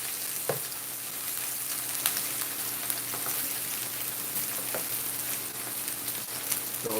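Lamb sizzles steadily in a very hot pan while being seared, a constant bright frying hiss with a few faint clinks and shifts, close and alone without talk.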